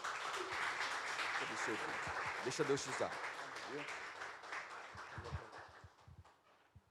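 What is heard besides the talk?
congregation applauding in church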